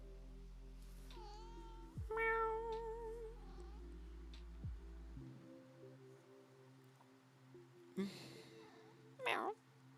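A cat meows indoors, giving a few faint, drawn-out meows over a quiet background hum, with brief bumps and rustles between them.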